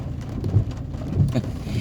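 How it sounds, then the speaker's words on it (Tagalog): Heavy rain patters on a house roof, a dense irregular drumming of drops with low rumbling swells, close and steady throughout. "Pumapatak na naman ang ulan sa bubong ng bahay."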